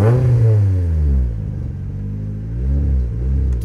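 A modified Lada 2104 with a swapped SR20 engine making 420 wheel horsepower revs up and down with a deep, throaty rumble, rising and falling several times close by.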